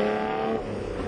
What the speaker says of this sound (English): And then there's that exhaust note